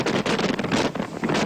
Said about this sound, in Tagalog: dahil sa lakas ng hangin.